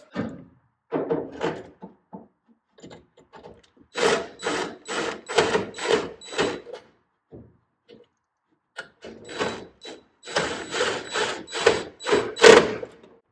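A screwdriver tightening the strain relief clamp on an electric dryer power cord, heard as close bursts of rapid ratcheting clicks and scraping, with short pauses between turns.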